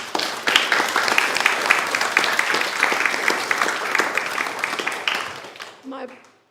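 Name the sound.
applause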